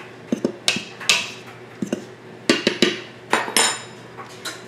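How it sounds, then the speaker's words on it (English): A fork mixes dry biscuit dough ingredients in a bowl, giving a series of close, sharp clinks and scrapes in irregular bursts, with no talking. "Now I'm just gonna take a fork and give this a good mix."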